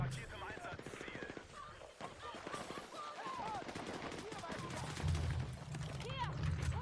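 Rapid automatic gunfire in the shooter Battlefield 6 crackles steadily throughout a busy match, with players shouting and talking over the bursts and game voice lines.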